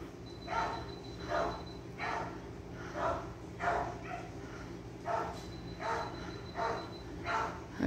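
A dog barks repeatedly at a distance, about a dozen muffled barks in irregular bursts over steady low background hum.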